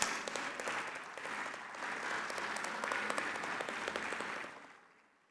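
Conference audience applauding to welcome a chief guest onstage, steady dense clapping from a large hall crowd that swells slightly and then fades out near the end.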